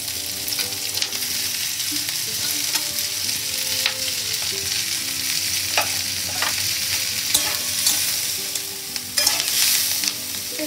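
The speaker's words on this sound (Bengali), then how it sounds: "পেঁয়াজটা আরেকটু হালকা ভাজা ভাজা হয়ে গেলে গাজর দিয়ে দেবো" Onions and carrots sizzle in a hot pan for chopsuey while a spatula stirs and scrapes at an irregular pace, a constant nearby frying hiss with no voices.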